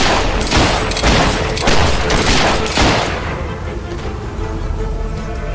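Gunfire in a battle in the video game Fable 3, with a quick run of shots and booming blasts over about three seconds, then fading to a lower rumbling din.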